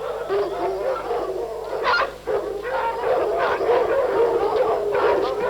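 A pack of hunting dogs, excited just before a hunt, bark, yip and howl continuously and loudly at close range, their overlapping cries filling the whole stretch.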